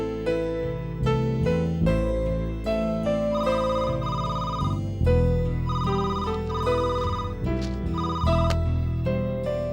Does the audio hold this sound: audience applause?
no